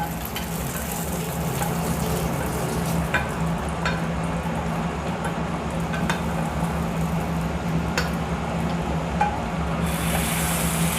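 Tempering being stirred into a simmering mung bean kulambu in a pot, a steady close sizzle and bubbling hiss with occasional sharp crackles and pops running throughout.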